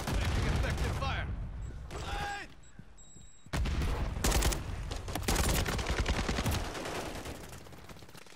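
Loud bursts of rapid automatic gunfire in a video game crackle in close succession, broken by a short quieter gap before the shooting resumes.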